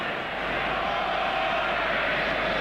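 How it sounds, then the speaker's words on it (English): A packed rugby stadium crowd at a 1991 Wallabies versus England match lets out a sustained, loud, broad roar of voices with no pauses. "The crowd exclaims boring"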